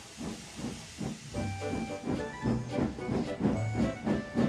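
A steam locomotive in an animated show hisses steadily as the train pulls away, with a soft rhythmic chuff and brief low tones under the hiss, and no voices.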